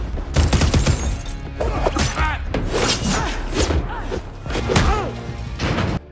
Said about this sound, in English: Explosions and attacks separate them.